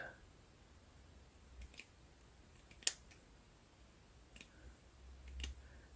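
Scissors cutting ribbon meant for wrapping a diamond wedding anniversary cake, a few sparse, quiet snips and clicks spaced apart against near silence, with one sharper snip in the middle.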